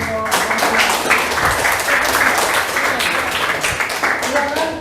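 A classroom group applauds with dense, sustained clapping at close range, fairly loud and continuous, with faint voices mixed in.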